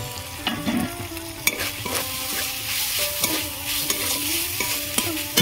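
Chicken meat being fried and stirred in a pan, with a steady sizzle broken by repeated scraping and clinking strokes of a spoon against the metal, close and moderately loud with no talk.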